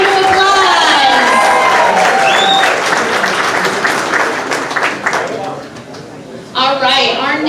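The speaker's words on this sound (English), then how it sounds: "Please give Anjanette a big round of applause." An audience at a progressive awards event applauds an honoree, loud clapping and cheering that gradually thins out, followed by a voice speaking and a renewed burst of crowd noise at the end.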